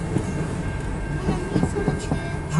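CN 271 freight train of car haulers rolls past in Port Huron, Michigan, with a steady rumble and irregular wheel clicks from close by, and faint voices murmuring underneath.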